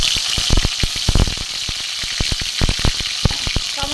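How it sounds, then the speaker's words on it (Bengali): Chopped tomatoes fry in hot oil in a wok, giving a loud, continuous sizzle broken by repeated sharp crackles and spatters. No one speaks over it. "টমেটোগুলো একটু ভেজে নেব।"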